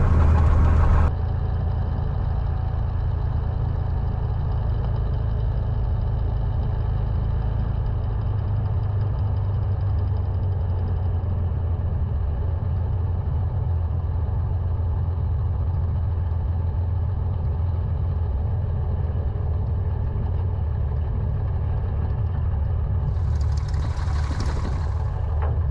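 A light aircraft engine idles steadily and low for about 25 seconds, a continuous near drone with a brief hiss near the end, no talk over it.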